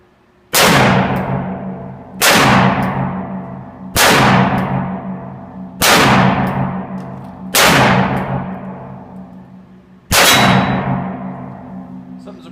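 Six loud, sharp gunshots from an 1860 Army black-powder revolver loaded with Pyrodex, fired one at a time every one to two seconds, each with a long ringing decay, and no talking in between.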